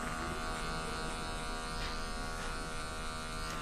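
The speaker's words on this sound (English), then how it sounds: "have the clipper just open enough, just closed enough" An electric hair clipper buzzes steadily and evenly while cutting a fade, a close, continuous motor hum with no voices.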